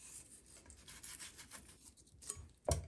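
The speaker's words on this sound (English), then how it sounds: "there's little bones in here, so we're gonna have to scrape the meat off as, as best we can" A fillet knife scrapes frog leg meat off small bones in quiet, uneven rasping strokes, ending in one sharper knock near the close.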